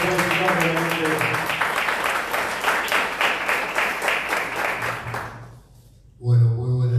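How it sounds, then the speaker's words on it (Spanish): Audience applause at an evening book presentation greets a visiting guest, a dense even wash of clapping for about five seconds that fades out, followed by a brief loud voice at the very end. "Le damos un fuerte aplauso"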